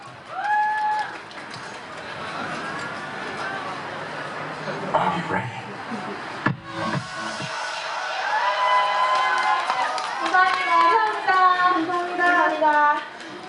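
An audience at a K-pop girl group's live street performance cheers and claps, a lively crowd swell that rises toward the end, with people talking and shouting over it.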